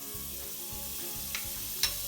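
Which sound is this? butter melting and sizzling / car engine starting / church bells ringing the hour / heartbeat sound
butter melting and sizzling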